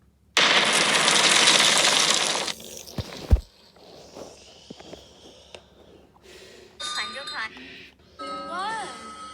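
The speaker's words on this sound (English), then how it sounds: "But then there was an even bigger explosion." A Thomas and Friends video game explosion in a mine: a loud roaring blast lasting about two seconds, then a sharp bang, followed by quieter scattered game effects and vocal-like tones.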